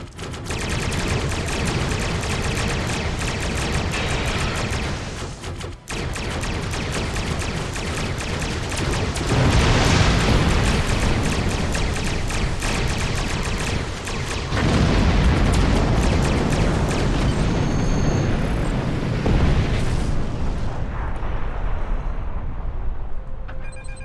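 Starship combat in Star Trek Online against decloaking Klingon ships, with loud, continuous volleys of weapons fire and booming explosions layered over each other and swelling and easing across the stretch.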